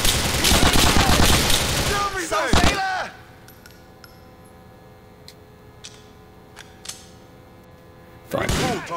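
Gunfire in Grand Theft Auto IV: The Ballad of Gay Tony: a loud dense burst of shots over the first three seconds, then scattered faint clicks, and another loud burst near the end.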